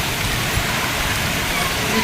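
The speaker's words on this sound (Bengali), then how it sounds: "আজকে একটু বৃষ্টি হচ্ছে" Steady rain pours down in a continuous, even hiss with no breaks, loud and close.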